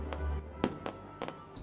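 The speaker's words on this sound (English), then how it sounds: "It's the sound of the fireworks that just scares these dogs to death." Fireworks go off at a distance on Independence Day, sharp pops and cracks arriving in a quick irregular burst of about five reports over a low steady hum.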